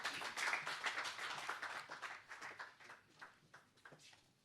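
Audience applause at a seminar for a Haryana Day celebration on technology-driven urban transformation, a dense patter of hand claps that thins and fades over a few seconds.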